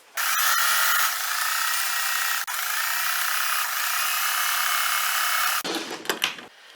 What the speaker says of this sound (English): Now we're just going to stitch along the curve.